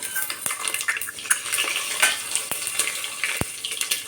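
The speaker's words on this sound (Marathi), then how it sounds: "तर तेल आपलं चांगलं गरम झालेलं आहे यामध्ये घालायची आपल्याला मोहरी त्यानंतर घालायचे आपल्याला जिरे त्यानंतर घालायचे आपल्याला खडे मसाले" Mustard seeds, cumin and whole spices crackle and sizzle in hot oil for a khichdi tempering, a steady bright hiss with sharp pops and a few stirring clinks close by, no voices.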